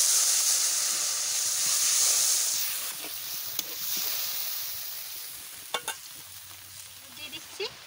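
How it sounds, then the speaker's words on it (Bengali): Water poured onto frying mutton in a pan, a loud steam hiss that gradually softens into a quieter sizzle, with a few light clinks near the end. "জল দিয়ে দিচ্ছি"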